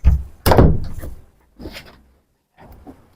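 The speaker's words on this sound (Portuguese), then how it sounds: "deixa eu fechar a porta, tá fazendo barulho, tá me irritando" A house door swings shut nearby with a few thuds and knocks, a loud first impact followed by quieter bumps and a final soft knock, with no talking over it.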